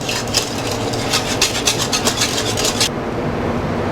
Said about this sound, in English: I'm going to whisk that in, stir vigorously, or else it'll clump up on you